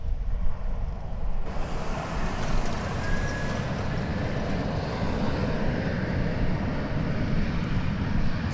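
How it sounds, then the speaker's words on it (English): Airbus A320 taking off at DFW Airport, a loud broadband jet engine roar that swells sharply after a quieter opening and holds steady throughout. "That was an Airbus A320."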